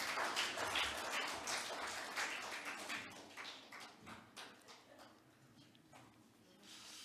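A church congregation at a Sunday worship service applauds to encourage fathers: dense clapping at first that thins into scattered, uneven claps as it dies down.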